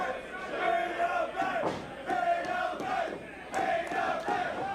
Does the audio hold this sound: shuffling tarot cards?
no